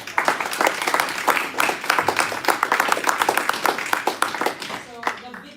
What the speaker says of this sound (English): Let's give them again a round of applause.